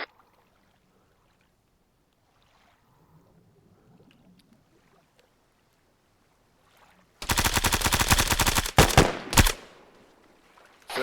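Rapid automatic gunfire in a multiplayer video game beach assault, aimed at a searchlight: a loud sustained burst of shots after several seconds of near silence, followed by a couple of shorter bursts.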